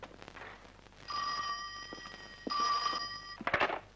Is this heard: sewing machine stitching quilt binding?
no